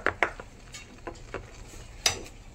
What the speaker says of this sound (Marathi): मस्त 2 मिनिटं घोलत राहायचं.